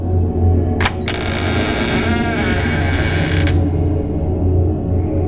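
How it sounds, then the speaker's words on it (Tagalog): A heavy old church door creaks open in one long, loud, grinding groan with a sharp scrape near the start, over a steady low rumble, with no voices. "Ang malaking pinto ay lumang luma at halos hindi na mabuksan"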